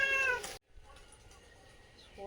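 A cat meows near a kitchen where fish is being cleaned and scaled, calling out for the scraps; a short voiced call opens the clip, then a low room hum with faint background sounds.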